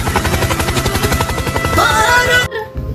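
A loud, rapid whirring rotor pulse like a toy military helicopter runs steadily, shifting pitch near the end before cutting off abruptly.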